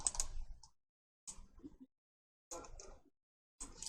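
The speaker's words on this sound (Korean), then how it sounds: "윈도우 키 누르신 상태에서 마침표 누르셔서 빨간 원" Keys pressed on a computer keyboard in a Windows key plus period shortcut, three or four short clustered bursts of clicks separated by silent gaps, close and fairly quiet with no voices.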